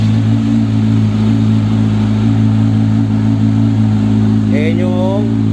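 A motorcycle engine with a slip-on exhaust pipe runs loud and close in a steady, throbbing idle. A voice briefly cuts in over it near the end.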